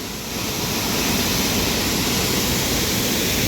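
A waterfall pours down in the rain in Japan, giving a dense, steady roar that fills the scene without letup and has no voices over it.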